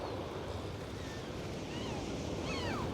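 Ocean surf washes steadily against the shore in a continuous low roar, with faint wind noise and thin high streaks drifting over the wash.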